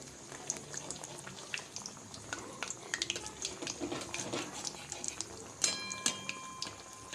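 Vadas frying in hot oil for Mumbai street-style vada pav, a steady close sizzle and bubbling with scattered stirring clinks and scrapes, ringing utensil taps near the end.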